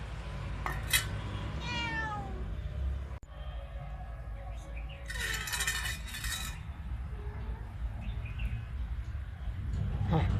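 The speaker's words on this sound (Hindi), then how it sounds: "ये बिल्ली है, ये देखिए दूध मांग रही है बाहर से। ये देखिए म्याऊं।" A cat meows at a gate outside, asking for milk, with a couple of rising meows near the start amid steady background noise and a sharp metallic clink. A bird calls briefly.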